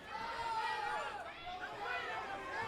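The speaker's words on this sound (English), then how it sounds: "you can hear the Dallas crowd here at Gilley's trying to encourage Moore to keep the pressure going" A Dallas crowd at Gilley's shouts and chatters steadily in encouragement of a fighter, a dense, sustained babble of many voices filling the hall at moderate distance.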